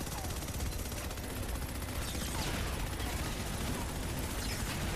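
Rapid gunfire shooting at turrets in the video game Starhawk, dense loud bursts of automatic shots with mechanical clatter that continue for the whole stretch, a voice talking underneath.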